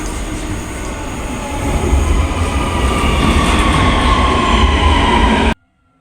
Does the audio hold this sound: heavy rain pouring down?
no